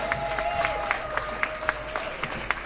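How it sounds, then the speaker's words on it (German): Applause from a crowd at a peace rally on Munich's Marienplatz, a steady patter of many hands clapping at moderate distance with scattered sharper claps and a faint sustained tone beneath. "Einen großen Applaus an alle Menschen, die sich hier für den Frieden einsetzen"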